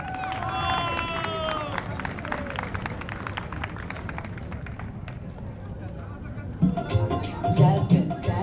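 Crowd at an outdoor mela cheering and applauding, a steady wash of clapping and voices with music playing early on, swelling louder with whoops near the end.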